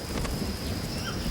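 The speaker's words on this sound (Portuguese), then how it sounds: "Em dezembro, formam-se as nuvens pesadas, anunciando o início das chuvas fortes." Heavy rain falls steadily in the Amazon rainforest, a dense continuous wash with a low rumble of thunder beneath it, loud and close throughout.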